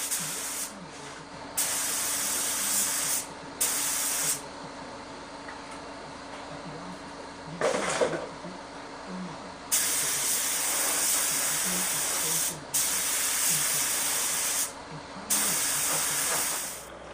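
Spray gun applying adhesion promoter to ABS plastic in a workshop, heard as repeated bursts of steady hissing air with short pauses between passes and faint background clatter.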